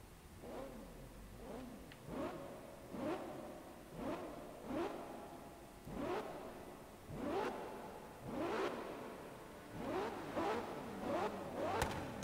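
Car engine in the racing game Forza Horizon 3 revving hard through repeated gear climbs, each rise sweeping up then dropping at the shift in a steady rhythm, loud and alone.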